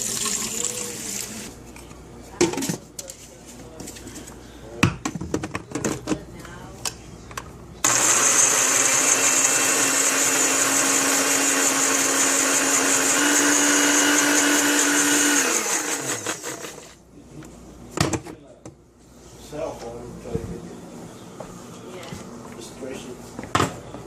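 Blender whirring loudly as it blends rice with water, running steadily for about eight seconds before winding down, with kitchen clatter and talk before and after.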